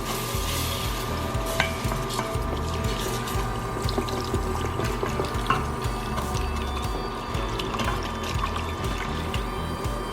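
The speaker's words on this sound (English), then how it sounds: "I'm gonna go ahead and put the 2 cups of bean broth in" Two cups of bean broth going into a pan of melted butter, a continuous watery pour and swirl with clinking, stirring textures, close and fairly loud, no talking.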